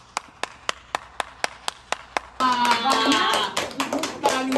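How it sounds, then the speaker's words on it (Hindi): Family clapping at a home birthday celebration: about nine crisp, evenly spaced claps from one person nearby, then several people cheer and talk over more scattered clapping. "तालियां तालियां तालियां"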